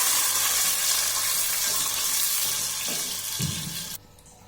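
About 4 glasses of water being poured into a cooking pot of browned onions for daal chawal: a steady, loud splashing pour with some sizzle, which stops abruptly near the end.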